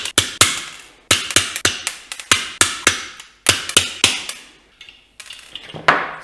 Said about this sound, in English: Use a trimmer to cut the little nail ends